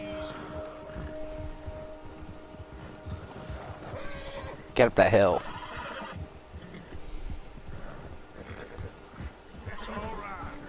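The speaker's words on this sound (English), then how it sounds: "The bear has spooked my horse." A horse spooked by a bear whinnies loudly in Red Dead Redemption 2, one sharp, close burst midway amid hoof clops, with someone talking around it.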